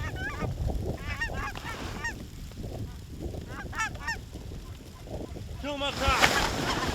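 Specklebelly geese call in flight over a North Dakota hunting spot in a blizzard, with repeated honking and yelping in bursts that grow louder and closer toward the end, over wind noise and a murmur of low talk.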